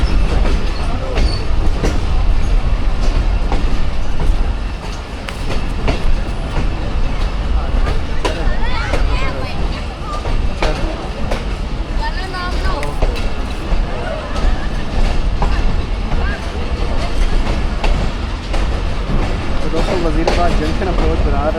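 The Awam Express train rolls in toward Wazirabad Junction with loud, continuous rumbling and clattering of wheels on rails, while a person talks over the noise throughout.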